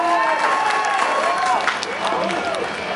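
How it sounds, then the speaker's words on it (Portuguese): Audience applause and cheering for a costumed Roman legionary contestant at an anime convention fighting event, steady crowd clapping with voices talking and calling over it. "Um bloco de palmas para o Legionário Caios"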